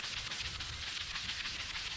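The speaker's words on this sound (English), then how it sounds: "the cup that I'm sanding right now, this is a 30-ounce tall skinny cup" The coating is sanded off a 30-ounce tall skinny tumbler cup in a continuous, even scratchy rasp with quick back-and-forth strokes. The sound is close but fairly quiet.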